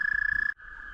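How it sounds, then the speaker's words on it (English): A dense chorus of frogs by a creek croaks loudly and close by in a steady, pulsing trill that cuts out for an instant, then carries on slightly softer. "Hopefully you guys can hear me over all these frogs, because these things are insanely loud."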